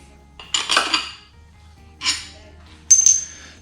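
Hollow two-piece metal dowels pulled out of a 13B-REW rotary engine during a teardown, making three sharp, close metallic clinks spaced a second or so apart against a quiet background.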